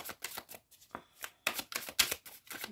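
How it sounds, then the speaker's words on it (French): A deck of tarot cards is shuffled by hand, giving close, crisp riffling bursts in an uneven rhythm of short slaps and flutters with brief pauses between, with no talking. "on commence avec le tarot que je vais mélanger pour les balances"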